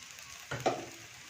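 Paratha roasting in a pan with a little oil: a soft steady sizzle with a couple of brief louder crackles from the bread being pressed or turned, no talk.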